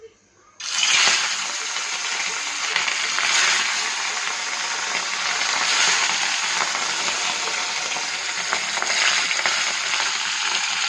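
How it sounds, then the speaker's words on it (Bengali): Water spinach (kalmi shak) sizzles and crackles steadily in a pan in a home kitchen, a close, continuous hiss that starts abruptly and holds for several seconds with no voices. "কলমি শাকটা বসিয়ে ভাজা হয়ে যাবে"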